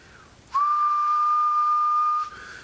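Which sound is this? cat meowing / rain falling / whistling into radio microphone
whistling into radio microphone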